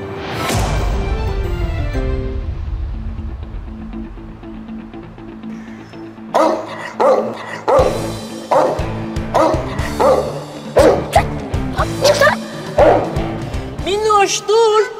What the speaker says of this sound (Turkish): Ama o köpek geldi.